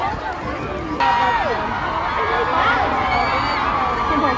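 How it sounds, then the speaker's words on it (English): Huge arena crowd at a concert in Fort Worth, Texas, roaring with high-pitched screams and cheers that swell sharply after a second, a loud continuous babble of excited fans. "This is the absolutely craziest crowd I've ever seen."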